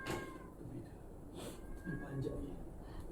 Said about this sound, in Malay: Dengar tak kucing mengiau tadi?